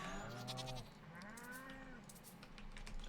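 Cows on a farm in the Stardew Valley video game, giving two drawn-out, wavering calls, one short and one longer, fairly close and clear over a quiet background.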